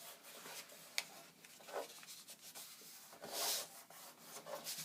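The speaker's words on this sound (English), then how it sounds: "Run my fingernail along the crease line." Fingernail drawn firmly along the fold of a paper plane, a soft dry rubbing scrape with a few brief swipes and one sharper tick, close and quiet with no talk.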